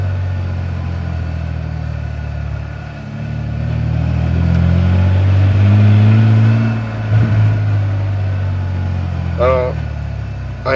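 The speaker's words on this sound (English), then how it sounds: "misfire issue. Let's see if I can replicate it. It's in first gear. See, there it goes." A 1991 Ford F-150 with a 4.9-litre engine and a misfire fault runs in first gear, its engine rumble swelling and easing while someone talks over it.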